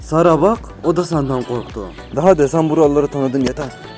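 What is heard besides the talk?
No distinct noise like a dog, phone or traffic.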